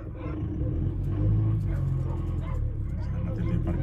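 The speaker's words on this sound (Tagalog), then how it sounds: "So ito yung paligid ng aso dito sa mga asuhan. Ang ingay nga lang dito kasi ang dami nila" Many dogs bark and yip together in a crowded kennel, a continuous noisy chorus of overlapping barks, whines and yelps with low rumbling background noise and no clear gaps.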